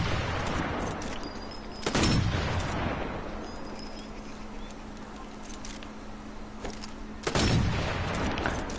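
Two booming Swedish Mauser rifle shots ring out in Sniper Elite 4, several seconds apart, each with a long echoing tail over a low hum.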